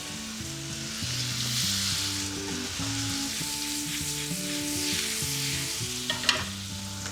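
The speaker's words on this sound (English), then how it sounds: "Just melt some butter in the pan. Add the garlic." Garlic sizzling in melted butter in a pan, a steady loud frying hiss with stirring, while melodic tones play underneath and a sharp clink sounds near the end.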